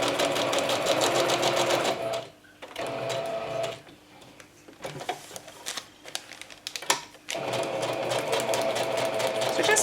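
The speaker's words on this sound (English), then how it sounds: "So just making wiggly shapes, stitching everywhere." A sewing machine stitches wiggly lines across a vellum scrap pouch, running in close, fast, steady bursts that pause, restart in short stuttering runs, then settle back into a sustained whir, with no voices.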